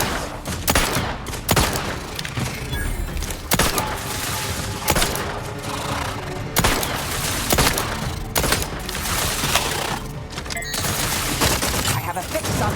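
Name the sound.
gunfire in the video game The Outer Worlds 2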